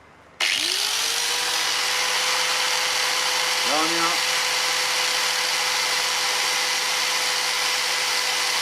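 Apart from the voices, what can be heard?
electric fan running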